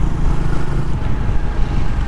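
Triumph Tracker 400 motorcycle cruising in sixth gear at low speed, a steady low engine drone with wind rumble, continuous and fairly loud throughout.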